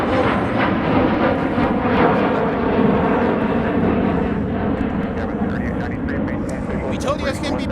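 A SkyWest Embraer regional jet departing toward O'Hare from MSP airport, a steady loud broadband engine roar that holds throughout, with people talking over it.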